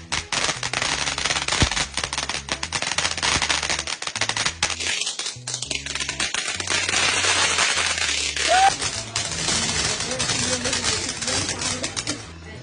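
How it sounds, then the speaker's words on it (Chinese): Chinese New Year fireworks and firecrackers set off nearby, a loud dense string of rapid crackling bangs that keeps going almost without pause, with a brief voice in the mix. "来放烟花喽！ 烟花真不错。"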